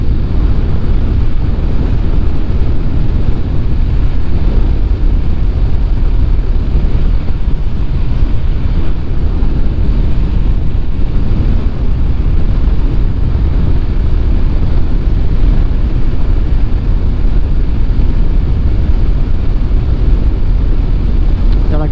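Rider on a Honda VFR motorcycle, heard from inside the helmet: a steady, loud roar of engine and rushing wind noise that holds evenly throughout, with no talking.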